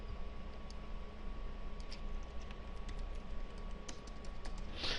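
Quick, light taps of a computer keyboard while a PHP tag is typed, sparse and close, over a steady faint hum with no talking.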